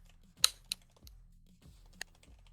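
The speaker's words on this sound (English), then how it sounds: "Just typing a message in chat real quick." A chat message is typed on a computer keyboard: a few sparse, crisp key clicks, close and fairly quiet, with no talking.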